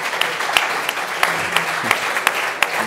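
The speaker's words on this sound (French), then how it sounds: "On peut les applaudir aussi." An audience applauds steadily, with a dense wash of many hands clapping and a few sharper, louder individual claps standing out near the listener.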